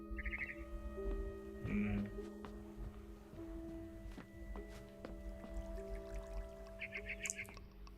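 Birds chirp outside a window in the video game What Remains of Edith Finch: faint short trills come and go over soft ambient tones and drips, with talking in the background.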